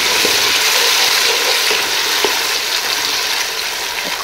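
Onion and jalapeño frying in a pan, a loud, close, continuous sizzle with occasional stirring clicks and scrapes and no voices.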